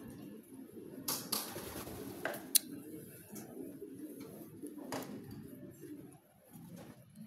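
Pigeons arriving at a racing pigeon loft, with soft cooing, wing flaps and scattered clicks and taps at close range against a quiet outdoor background.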